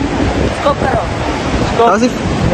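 Rushing water at Athirapally waterfall in Kerala, a steady broadband roar filling the whole clip, with faint voices briefly audible over it.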